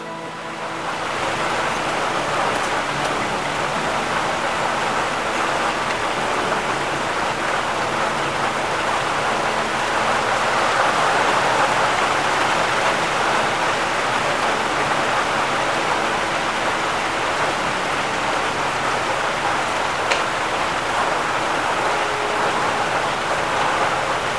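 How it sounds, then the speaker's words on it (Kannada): Steady, dense rain hissing without a break, a full even wash of sound close by with no voices. "ಮಳೆ ಬಂತು ನೋಡ್ರಿ. ಮಳೆ ಬರಾಕತೈತಿ."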